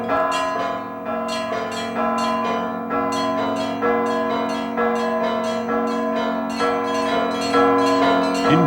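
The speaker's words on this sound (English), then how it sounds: "Bells ring in anticipation of the arrival of the Metropolitan" Church bells ringing at St. Vladimir's Cathedral in Kiev, Ukraine, rapid repeated strikes of several bells overlapping in a rich, steady peal, fairly loud and close, with no voices.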